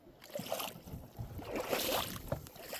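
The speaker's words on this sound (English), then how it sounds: "even just pushing with one finger, I can guide the canoe around all the rocks here" A canoe is guided by hand through shallow, rocky lake water, giving soft, close sloshing and scraping that swells and fades over a few seconds, with light wind and no talking.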